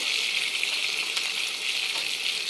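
Ginger paste sizzles and crackles steadily in oil up close, a bright continuous frying hiss with no voices.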